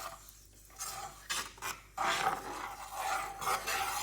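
A spoon stirs honey with cardamom, cloves and pepper in a cup, giving scraping, rasping strokes in uneven bursts, close and fairly quiet, with no voices.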